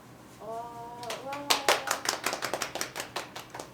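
An audience at a community village teachers' association gathering breaks into rhythmic, brisk applause after a brief voice, the claps close and evenly spaced until the end.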